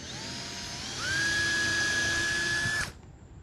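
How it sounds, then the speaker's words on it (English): A power drill boring screw holes into aluminum extrusion, a high motor whine that rises in pitch as it speeds up, holds steady for a couple of seconds, then cuts off abruptly. "now we've got 2 holes drilled here"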